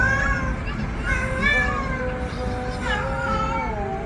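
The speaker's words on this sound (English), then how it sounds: "Here comes the cat." A domestic cat meows in long, drawn-out wailing calls, loud and close, several in a row over a noisy indoor background.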